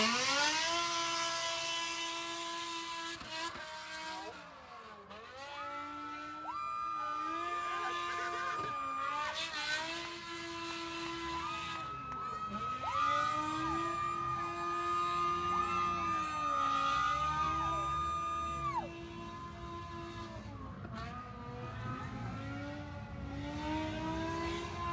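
A race car on an autocross course at a motorsport festival revs hard, its engine note climbing and dropping sharply as it upshifts through the gears, loud and close without a break.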